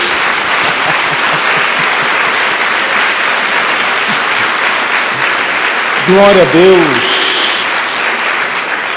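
Church congregation applauding for Jesus during a sermon, a steady broadband wash of clapping that runs the whole length, with a voice briefly calling out a short praise over it.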